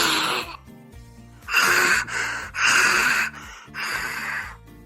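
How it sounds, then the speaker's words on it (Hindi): An old woman snores while asleep, with loud rhythmic rasping breaths repeating about every second, close and prominent, in a comic sketch. "बुढ़ी सो गई है, बुढ़ी खर्राटे ले रही है।"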